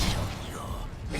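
Incendio fire spell cast in the Hogwarts Legacy video game: a dense, rushing burst of broadband roar that holds steady and loud for about a second amid combat.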